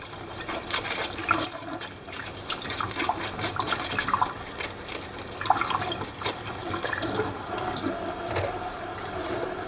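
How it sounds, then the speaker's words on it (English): Tap water runs through a sieve of milk kefir grains being rinsed in a sink, a close, continuous splashing stream with uneven surges and spatters throughout. "I just run the kefir in the sieve under the tap to wash out"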